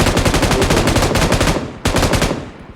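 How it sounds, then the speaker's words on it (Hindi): Rapid automatic gunfire in the BGMI battle royale game on the Livik map, a loud continuous stream of close shots with one brief gap before the burst resumes. "इस तरह से कहाँ गोली चला रहा हूँ"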